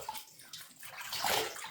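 Splashing water scooped from a filled basin onto a face during a skincare routine, a few quick close sloshes building to a louder splash near the end.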